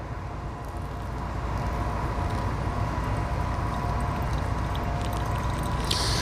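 Water is poured over coffee grounds in a Chemex during the second pour after the bloom, giving a soft continuous trickle and hiss that swells slightly after the first second and then holds steady.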